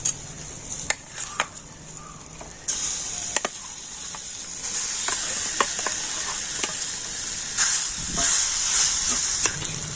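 Boiled potatoes fry with spices in a pan and are stirred, giving a steady close sizzle and hiss broken by scraping stirs. No one speaks.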